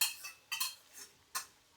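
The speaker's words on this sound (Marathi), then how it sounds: "आता आपण ही स्मॅश केलेली पावभाजी कढईमध्ये टाकून एकजीव करून घेऊया." A spoon scrapes and knocks against a kadai while smashed pav bhaji is stirred and mixed, giving four or five short, bright metallic strokes at an uneven pace, close and fairly quiet.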